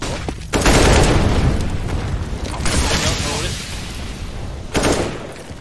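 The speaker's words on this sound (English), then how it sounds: "Okay. Yeah, flashbang." Flashbang grenade in a Counter-Strike match, with a loud burst, continuous roaring game noise and a second sharp bang near the end, heard among game sounds and the players' talk.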